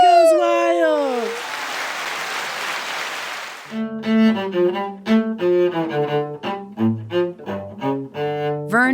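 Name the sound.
crowd cheering and applause sound effect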